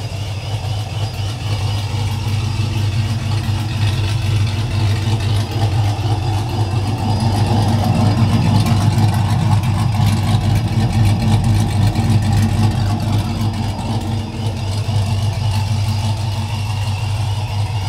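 A Ram truck engine running with its exhaust cutout open, a loud, deep, rumbling exhaust note that swells in a mild rev midway and then settles back, heard close up with no talking.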